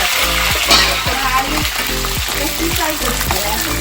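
Potato french fries and aloo tikka frying in hot oil, a steady loud sizzle with rhythmic stirring or scraping strokes about every half second, close up.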